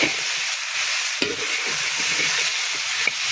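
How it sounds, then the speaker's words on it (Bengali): Pumpkin, potato and soybean chunks fry in a pan for a vegetarian dish, giving a steady close sizzle broken by a few sharp scrapes of stirring. "সবজি যে এত সুন্দর ভাজা হবে এত সুন্দর খেতে হবে।"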